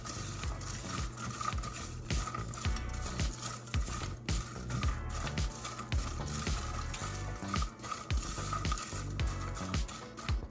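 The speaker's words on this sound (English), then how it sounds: "We're just going to stir ever so often while the pork rinds are toasting." Pork rinds toasting in a pan, a steady dense sizzle with light stirring scrapes and patter throughout, close and continuous with no talking.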